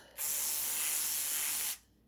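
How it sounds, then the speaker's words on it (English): A spray bottle mists water over planted tomato seeds in one steady, close hiss lasting about a second and a half, clear and alone. "And we're just going to lightly spray it."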